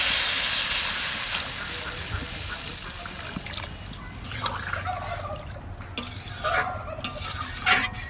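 Ground cumin and dried red chilli paste with water poured in sizzles and hisses steadily in a pan, with occasional stirring scrapes and clinks near the end.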